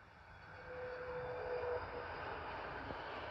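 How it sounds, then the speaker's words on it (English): Air Algeria Airbus A330 arriving at London Heathrow, a steady distant jet engine roar that swells after a moment and holds, with no voices. "Arriving in now is an Air Algeria Airbus A330 from Algiers."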